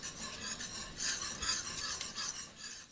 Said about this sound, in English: After you add the sage, you just stir it.